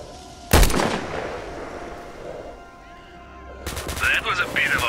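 An enemy's gunfire in the video game STALKER: Shadow of Chernobyl, with a sharp, loud shot near the start, a quieter stretch, then a burst of rapid shots toward the end.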